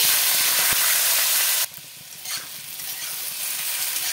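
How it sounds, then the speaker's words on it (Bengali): Potatoes fry in hot mustard oil, a loud, close, hissing sizzle that drops sharply partway through, then rises again to a steadier, quieter crackle, with no talking. "এই তেলে আমি আলুগুলোকে ভেজে নেব"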